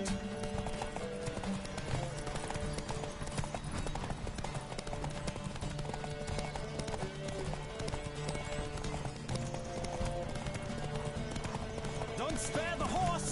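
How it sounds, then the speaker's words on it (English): Horse hooves gallop in a steady rapid clip-clop during a horse race in The Witcher 3, continuous and close over game music and background voices. "Don't spare the horse!"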